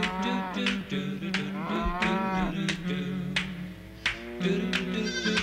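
Several cows moo in overlapping, drawn-out calls, fairly loud and close, with a few sharp clicks between them and no talking.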